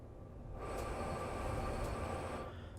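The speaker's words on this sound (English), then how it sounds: "the train will end up rolling downhill a little bit" Train rolling downhill on Sherman Hill in Train Sim World 2: a steady rumble of rail noise that swells in after about half a second, holds evenly, and eases off near the end, with no talk.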